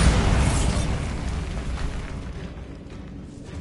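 A Bombarda blast spell in Hogwarts Legacy explodes inside a decaying catacomb as a loud, broadband boom that fills the clip and slowly fades into a rumbling tail.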